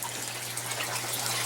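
Water drains steadily through the cut-down, zip-tied drain of an IBC fish tank, a continuous close rushing trickle with a low hum beneath, unbroken throughout.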